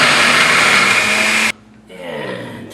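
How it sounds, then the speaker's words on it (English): A blender chops shallots for a Malaysian beef rendang paste, running loud and steady with a high whine, then stopping abruptly before a softer whir starts again. "into the blender go some shallots. Now I'm going to beat these down because I need the liquid from them."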